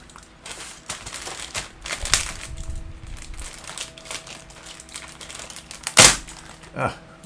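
A knife slitting open the plastic bag holding parts of a Bronco Half Cab model kit, close crinkling and rustling with a few sharp snaps and tears amid quiet handling.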